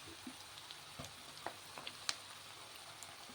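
Onions fry in oil until browned, giving a quiet, low sizzle dotted with scattered faint pops and crackles.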